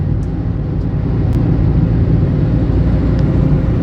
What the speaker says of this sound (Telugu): వినిపిస్తుందా ఇంజన్లో నుంచి సౌండ్?